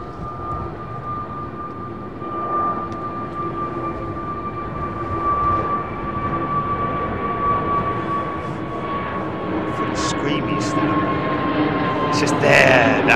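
Airliner departing runway 09R at London Heathrow, a steady broad engine roar with a sustained whine, moderately loud and close, building slightly over time.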